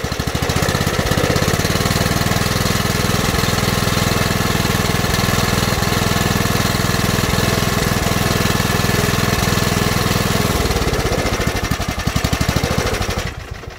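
An old riding lawn mower tractor engine fitted with a new spark plug runs loud and close with a steady chugging drone, and its tone shifts near the end before it drops away.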